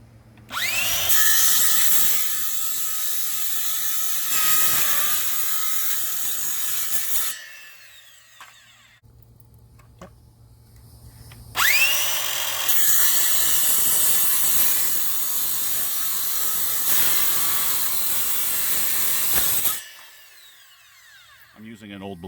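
A power tool fitted with an old blade cuts into a rotting wooden picnic bench and through its screws, whining loudly in two long close passes with a quieter gap between them.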